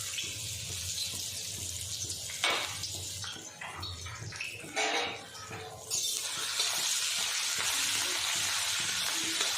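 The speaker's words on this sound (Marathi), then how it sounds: "कढईत तेल तापत ठेवलेलं आहे आणि त्यात मी टाकते अद्रक आणि लसूणची पेस्ट" Ginger and garlic paste hits hot oil in a wok, giving a steady loud sizzle with a sharp burst near the start and a louder, hissing surge midway that continues to the end, with no talk.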